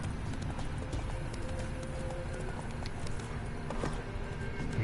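Steady clip-clop of horse hooves trotting in a continuous rhythm in the video game Witcher 3: Wild Hunt, with constant background noise and no talking.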